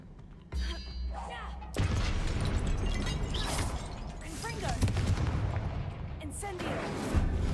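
A Confringo fire blast spell cast in Hogwarts Legacy bursts in loudly and keeps roaring as a dense, crackling rush of blasts and impacts for several seconds, with a brief low rumble before it.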